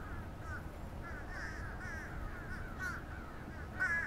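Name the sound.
flock of crows cawing in cedar trees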